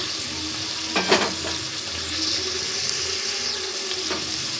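Cashews fry in a pan for a vegetable biryani, a steady close sizzle with a couple of sharp clinks of a stirring utensil against the pan early on, and no voices.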